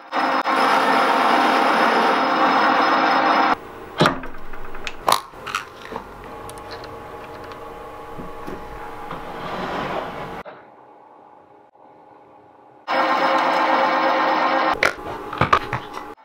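Harsh metal cutting noise from a machine tool facing off a titanium part, loud grinding and scraping with clanks and bangs, stopping briefly before the cut resumes.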